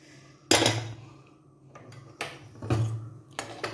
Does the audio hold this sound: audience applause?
no